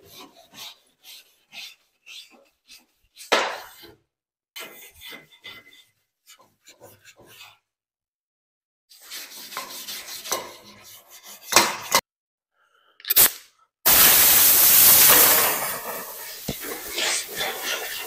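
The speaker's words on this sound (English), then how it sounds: "let's get some wire brushing" Wire brush scrubbing metal during a snowcat build, rapid rasping strokes in short bursts separated by pauses, ending in a long, loud continuous scrub, with brief talking in between.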